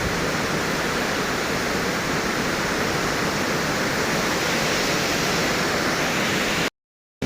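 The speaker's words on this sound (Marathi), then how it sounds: "कोकणात एक नंबर धबधबा वाटतो" A large waterfall at Ranpat Ukshi in the Konkan region roars as a loud, dense, unbroken wash of rushing water for nearly seven seconds before cutting off abruptly.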